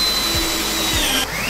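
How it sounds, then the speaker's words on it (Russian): A power screwdriver drives self-tapping screws into a wooden bed frame with a loud, continuous motor whine that shifts slightly in pitch. It is close up and carries no talk. "саморез необходимо закручивать до тех пор, пока он не прижмет основание к царге"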